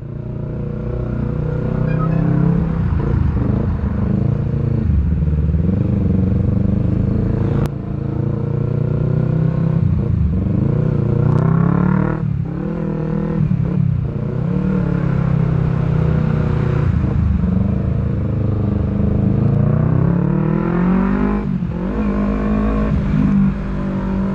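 Steady road traffic on a four-lane road, with cars and motorcycles rumbling and revving continuously nearby, engines rising and falling over a constant low drone.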